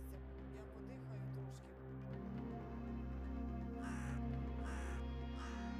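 A crow caws a few times outdoors, short rough calls heard moderately close over a low steady hum, with no talking.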